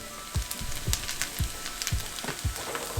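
Breakfast food cooks on a griddle with a spatula resting on top, giving a steady close sizzle and crackle with small irregular pops throughout.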